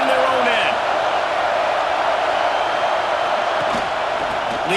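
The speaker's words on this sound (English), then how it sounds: "The roar of the crowd trying to fuel this defense to keep them pinned in their own end." A roaring crowd at an Ohio State football game: a steady, loud wall of stadium noise that holds without letup while a voice talks over it.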